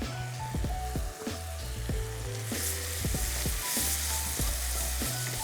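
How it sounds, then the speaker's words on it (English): Peppers and onions brown in a hot pan, a dense continuous sizzle overlaid by regular knocking and scraping strokes from stirring, close and fairly loud, with no talking. "We're going to add in the peppers, and we're gonna add in our onions. Brown those off."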